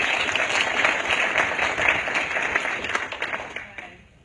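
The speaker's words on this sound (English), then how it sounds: "big round of applause actually for all of our educators" Audience applause for a group of educators at a presentation on a gamified physics curriculum, a steady wash of many hands clapping at close range that thins out and fades near the end.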